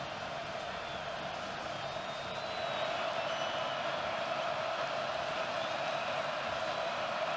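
Football stadium crowd at a college game between Baylor and Iowa State, a steady roaring wash of cheering that swells slightly midway and holds, distant and continuous with no distinct voices standing out.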